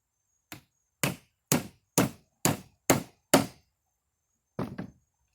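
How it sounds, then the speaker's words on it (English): Nail gun fastening pieces of a simple wooden box, firing seven sharp shots in a quick, even rhythm, then one more after a short pause, close and loud against a quiet background. "Nail gun will be a lot quicker and easier."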